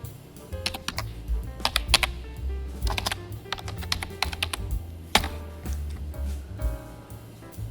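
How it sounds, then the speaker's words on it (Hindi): Typing on a computer keyboard while working in Premiere Pro CC 2020, heard as close, crisp bursts of key clicks in irregular clusters with short pauses between them, over a steady low hum. "दूसरा तरीका है कि इजीली आप यहाँ पे जो है टाइप कर सकते हैं उस चीज़ को"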